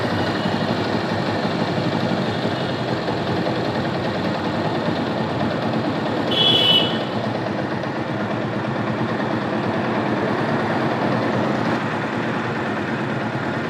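A motorcycle engine idles steadily as its revs are brought down toward 1000 RPM, a continuous close, even drone with a brief faint whine midway.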